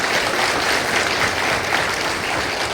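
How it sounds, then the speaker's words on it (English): Thunderous audience applause for the faculty at a medical college farewell function in Baramulla, a dense, steady wall of clapping filling the hall without pause. "I want you to give a thunderous applause for these faculty members."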